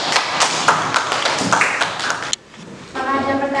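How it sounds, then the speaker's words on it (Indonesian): Students in a classroom clap for a presenting group, a quick burst of uneven, close claps lasting a couple of seconds before it cuts off and talking resumes. "tepuk tangan untuk kelompok 6"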